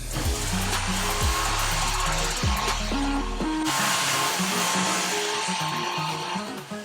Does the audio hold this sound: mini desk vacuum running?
yes